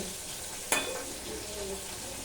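Soft, steady sizzling of pointed gourd frying in a pan, with one sharp clink of a utensil against the pan early on.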